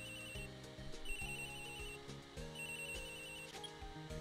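A phone rings in the Turnabout Samurai video game, repeated trilling rings over steady background music that continues throughout.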